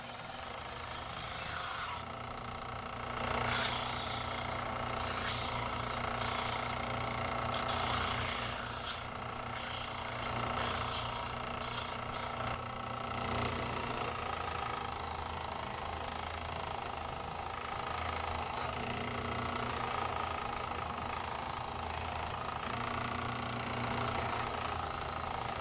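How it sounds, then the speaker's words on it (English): Power sanding or grinding along the sides of a laminated wooden slingshot to take off excess dried glue, a continuous close rasping hum with rough, fluctuating scraping bursts. "All I'm really doing is smoothing out the sides, getting all that excess glue off."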